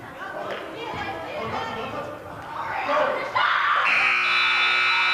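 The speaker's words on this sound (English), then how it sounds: "there's the buzzer to bring the first quarter to a close" A long, steady electronic buzzer sounds at the close of the first quarter of a junior varsity girls' high school basketball game, loud against gym crowd chatter and an announcer's voice that run under it.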